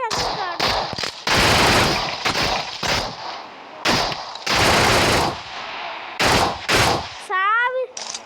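Bursts of rapid automatic gunfire from the mobile shooter BGMI crackle loudly in repeated volleys, separated by short gaps with voices talking and a rising whistle-like game effect near the end.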